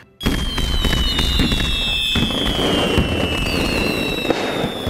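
Cartoon fireworks going off in a dense, continuous barrage of crackles and pops, with whistling rockets rising over the steady noise.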